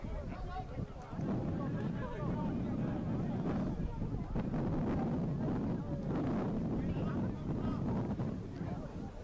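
Strong wind buffets the microphone at an outdoor rugby match, a steady low roar and rumble lasting the whole stretch while a commentator talks over it.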